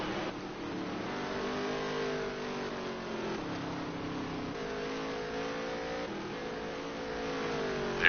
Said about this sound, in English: you can go through that section of the racetrack full throttle